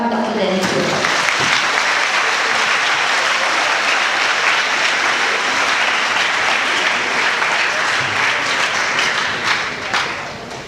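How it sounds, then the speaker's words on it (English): An audience at a keynote session applauds warmly and steadily for about ten seconds, a dense wash of clapping that begins to fade at the end. "Ladies and gentlemen, please put your hands together to welcome Dr. Dennis Yeo."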